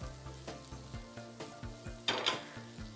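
Butter sizzles steadily in a shallow frying pan over a medium flame, with soft stirring clinks and a brief louder spatter partway through; no talking.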